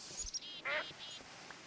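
Ducks in the Minecraft Technic modpack giving a few short, faint quacks over a soft hiss of background noise.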